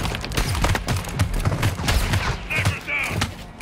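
Rapid bursts of gunfire in Call of Duty: Modern Warfare II, a dense string of close shots mixed with game effects and some background voices.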